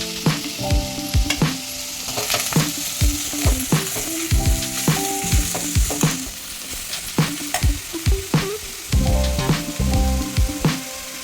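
Crushed garlic and ginger sauté in a hot pan with a constant soft sizzle, punctuated by frequent rhythmic scraping stirs and sharp ladle knocks against the pan, with no voices.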